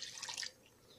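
Water poured into a pot of sambar rice, a short splashing pour lasting about half a second, fairly faint, then quiet.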